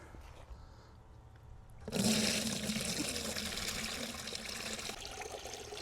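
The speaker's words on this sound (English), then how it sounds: "we're gonna pour it through some leftover chicken wire" Compost tea made from kitchen scraps pours through leftover chicken wire, starting suddenly after a quiet moment and continuing as a loud, steady splashing gush close by.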